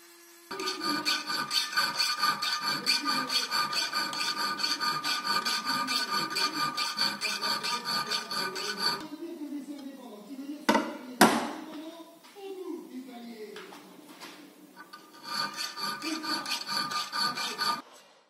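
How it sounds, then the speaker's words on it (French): Hand file shaping a metal part for a hunting dagger, steady rhythmic rasping strokes up close, broken by a pause with knocks and handling noises before the filing resumes. "ensuite on utilise la lime pour pouvoir ajuster tout ça parfaitement aux bonnes dimensions"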